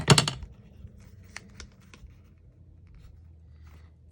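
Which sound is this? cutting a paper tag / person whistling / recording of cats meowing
cutting a paper tag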